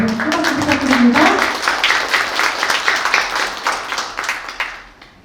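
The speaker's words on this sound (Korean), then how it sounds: "여러분 큰 박수 부탁드립니다" A seated audience at a youth policy talk event claps to welcome the first presenter, a broad wash of applause that swells early and gradually thins out, with a voice speaking over the start.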